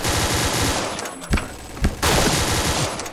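Rapid automatic gunfire from the video game Point Blank rattles in loud bursts broken by short pauses and a few single heavy shots, close and dominant with no talk.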